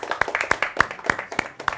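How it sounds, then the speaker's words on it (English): Scattered clapping from a small audience at a start-up accelerator pitch event, welcoming a company; sparse, uneven individual claps ring out close by at an irregular rhythm. "Okay, let's clap, please."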